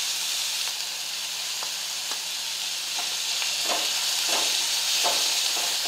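Ginger garlic paste sizzles in hot oil with a steady, bright hiss, broken by occasional soft clinks of a spoon stirring in the pan.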